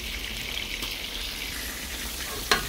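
Garlic and ginger sauté in a pan, a steady close sizzle and crackle with a sharp clink near the end; no talking.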